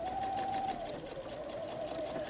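A sewing machine stitches a contrast piece onto a messenger bag lining, a fast steady whirring hum up close and fairly quiet, running continuously.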